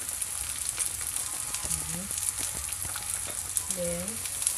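Onions sautéing in a pan during cooking of squash with bagoong and mushroom, a steady bright sizzle and crackle throughout, close and constant, with short bird-like chirps and faint talk in the background.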